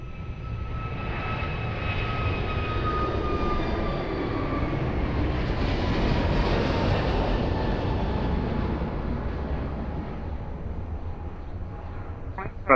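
An airplane on approach at Lisbon Airport roars steadily overhead, its jet engine rumble swelling to a peak midway and then easing, loud and continuous with a high whine gliding downward.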